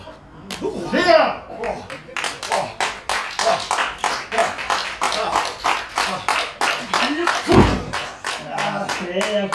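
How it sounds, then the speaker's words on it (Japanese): Crowd at a pro wrestling match clapping in unison: a steady, evenly spaced string of sharp hand claps under a commentator's excited talk. "お客さんの手拍子が聞こえましたでしょうか"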